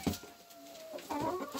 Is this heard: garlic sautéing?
no